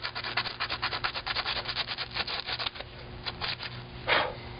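Steady back-and-forth rasping of sandpaper on a handmade wooden spoon, close and rhythmic, with quick strokes that slow and pause near the end.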